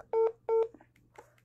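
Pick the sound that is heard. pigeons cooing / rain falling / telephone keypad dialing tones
telephone keypad dialing tones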